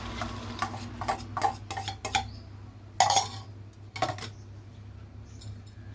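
A spoon clinks and scrapes against a bowl while rava laddu mixture with dry fruits is stirred, a string of short irregular taps with a louder clatter midway, close and alone.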